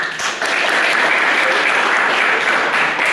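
A university Pancasila class applauds a student, broad steady clapping from many hands filling the room for about three seconds without pause.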